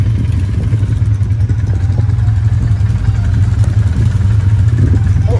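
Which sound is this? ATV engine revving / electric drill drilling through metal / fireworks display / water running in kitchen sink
ATV engine revving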